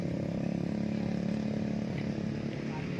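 An old Suzuki Smash motorcycle engine runs at a steady idle, a continuous buzzy low hum with fast, even pulsing, close and moderately loud.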